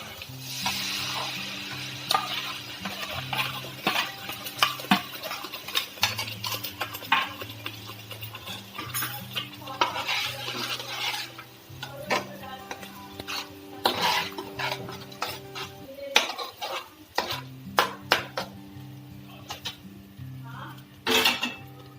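Tomato puree cooks with golden-brown fried onions for pav bhaji: a continuous sizzle runs under repeated scraping, stirring and clinks of a spoon against the pan, close by, with a cough at one point.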